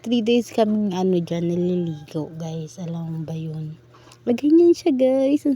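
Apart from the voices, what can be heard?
None of the usual background noises is heard.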